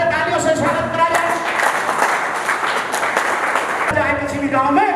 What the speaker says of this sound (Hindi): आपका स्वागत है, तालियों से स्वागत करा जाए